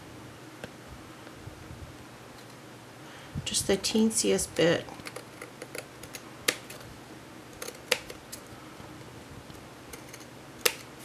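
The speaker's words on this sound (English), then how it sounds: "I'm just going to trim that off with my scissors." Several crisp snipping sounds of scissors cutting card, clustered in a short burst, followed by a few scattered clicks and taps; a voice speaks briefly.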